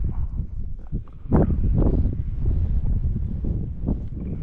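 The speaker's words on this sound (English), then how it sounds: "This wind is being real funky back in this particular corner" Wind gusts across a lake shore in a back corner of Raystown Lake, buffeting the microphone with a constant low, rough roar that swells briefly and then stays heavy and close throughout.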